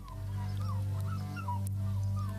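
A dog in a Pavlov salivation experiment whimpers with thin, rising whines repeated through the clip over a steady low hum.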